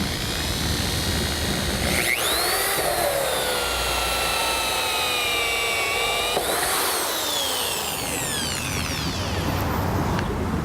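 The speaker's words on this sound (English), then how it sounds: "So we've got our drill set to go in, got our barrel steady" A power drill bores a hole into a plastic rain barrel, its motor whining steadily and shifting pitch up and down as the bit cuts, loud and close with no talk over it.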